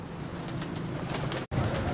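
Pigeons coo on a rooftop loft in Drapetsona, soft repeated low throaty calls close by over a steady background, with a momentary cut near the end.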